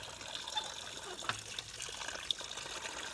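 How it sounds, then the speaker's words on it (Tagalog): Water trickles and splashes steadily from a newly built hand pump well, a continuous close gush with a few small clanks and knocks, no talking. "Ayun, may tubig na oh."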